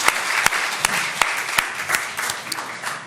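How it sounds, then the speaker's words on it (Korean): A church congregation applauds steadily, many hands clapping together in a dense, even wash with a few sharper claps standing out. "박수로 하나님께 영광을 내드립니다."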